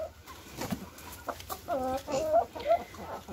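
Chickens cluck around someone offering them fresh leaves, a run of short, fairly close calls with soft rustling behind; a voice speaks in Portuguese now and then.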